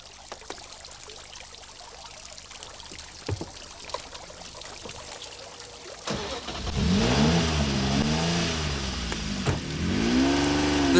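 A Jaguar XJ220 supercar engine revs loudly and close after a quieter stretch, with repeated rising and falling sweeps that swell and drop over several seconds.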